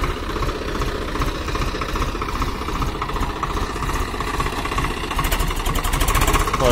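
A Swaraj 744 XT tractor engine runs loud and close, hauling a loaded trolley through wet manure, its steady diesel chugging rising slightly toward the end.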